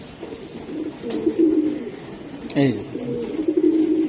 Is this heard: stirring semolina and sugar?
no